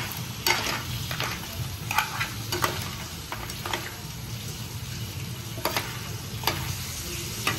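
Crab pieces stirred through thick masala gravy in a hot pan, a steady close sizzle broken by repeated scraping knocks of the spoon against the metal, with no voices.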